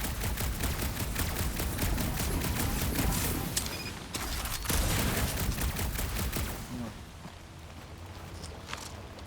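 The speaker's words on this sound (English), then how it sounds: "Maybe I can shoot it through that crack" Rapid gunfire rattles in a Guardians of the Galaxy video game, with dense volleys of sharp shots over several seconds that thin out toward the end under a steady background of game sound.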